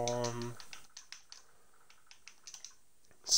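Someone typing a Minecraft Bedrock command on a computer keyboard: a run of separate, close keystroke clicks with uneven spacing after a short burst of speech at the start, ending in a louder tap.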